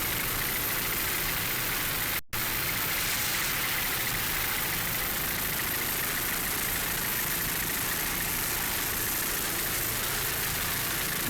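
Outboard engines on offshore racing catamarans in the cat outboard class roar as a steady, dense drone mixed with wind and spray noise during a 2006 Edison Oil race, with one brief dropout.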